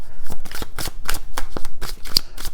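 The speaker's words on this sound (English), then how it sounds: "Just kind of throw it in the middle there somewhere and give it a shuffle." A tarot card deck being shuffled up close, a loud, steady run of rapid crisp card flicks and riffles lasting a couple of seconds.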